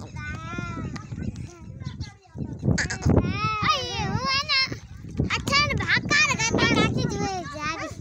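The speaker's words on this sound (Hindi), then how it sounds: "सब बकरों में जो बेस्ट बकरा वो ये है।" Several goats bleat repeatedly at a village livestock market ahead of Eid al-Adha, with wavering cries overlapping one another, close and loud, and people talking in between.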